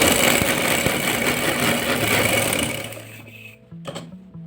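A sewing machine stitches a band (ban gala) collar, whirring steadily and close up for about three and a half seconds before stopping, with a few light handling knocks afterward.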